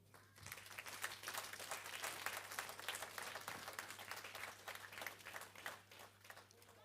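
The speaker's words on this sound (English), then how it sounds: "give ourselves a big clap offering" A church congregation stands and claps at an anniversary service, sustained crowd applause that swells and then tapers, recorded faintly over a low steady hum.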